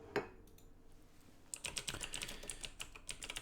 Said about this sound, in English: I have the loudest keyboard in the history of existence